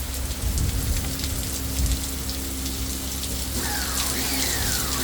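A hard downpour drums on surfaces outdoors while a muddy stream runs down a driveway, making a loud, continuous wash of rain with a few faint higher tones drifting through near the end.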